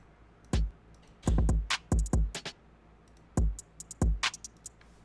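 Drum demo loop number four built around a sharp clap sample: sparse kick hits with snappy clap bursts landing in an uneven, syncopated pattern, played cleanly with no voices.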